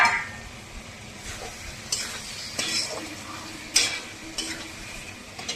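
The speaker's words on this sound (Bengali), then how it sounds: "আলুটা দিয়ে দেবো, আলুটা দিয়ে কষাবো" Potatoes sauté in a pan, giving a soft steady sizzle under a few distinct spatula scrapes and light metallic clinks spaced a second or so apart, heard up close.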